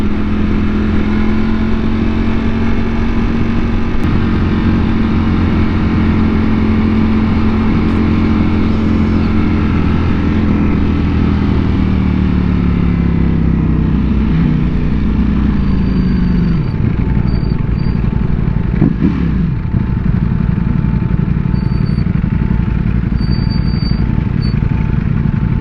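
A Ducati Panigale V4S sport motorcycle's V4 engine drones loudly and steadily close by, its pitch sinking midway before revving back up, with no talk over it.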